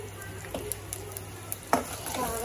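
Asafoetida tempering fries in a small amount of hot oil with a soft, steady sizzle, punctuated by occasional light ticks and a clink of a utensil against the pan, fairly quiet and close.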